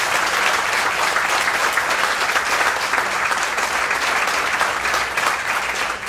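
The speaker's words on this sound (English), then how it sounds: "So give the wives a round of applause for us." An audience applauds at a Michigan Irish American Hall of Fame ceremony, a continuous, even wash of many hands clapping for about six seconds without speech.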